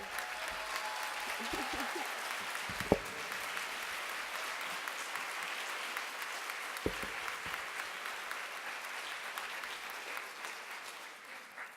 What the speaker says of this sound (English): I was going to tell you to give yourself a round of applause